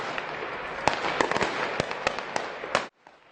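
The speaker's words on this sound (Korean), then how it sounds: "알마티 도심에서는 경찰과 무장한 시위대의 총성이 이어졌고" Gunfire between police and armed protesters in Almaty's city centre, a rapid irregular series of sharp cracks and pops over a dense rumbling background, fairly close, cutting off abruptly near the end.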